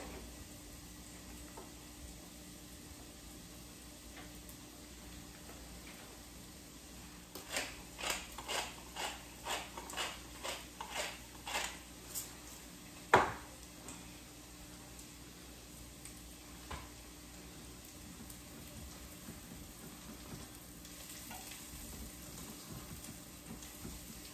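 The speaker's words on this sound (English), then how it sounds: "I'm gonna add my garlic in" Garlic goes into a pan of softening, lightly crisping mushrooms, giving a quiet pan with a short run of crackling, scraping bursts in the middle and one sharper knock before it settles again.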